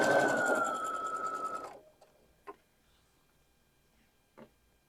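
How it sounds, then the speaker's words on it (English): A sewing machine sews a quilt sashing row with a steady, close mechanical whir for nearly two seconds, then cuts off, followed by a couple of faint clicks in the quiet. "we're just going to sew those down"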